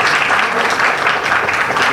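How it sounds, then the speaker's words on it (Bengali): Loud, dense applause from a crowd at a business event marking the signing of a first international export order, a continuous wash of clapping for about two seconds with no voices over it. "এই মুহূর্তে একটা জোরে করতালি প্রত্যাশা করছি"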